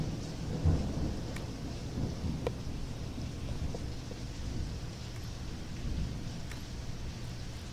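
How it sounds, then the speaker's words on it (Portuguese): Steady rain pours down in the Dragon Age Inquisition video game, with a low rumble of thunder in the background and a few faint clicks, and no one speaking. "Vocês devem estar ouvindo toda a chuva que está caindo aqui"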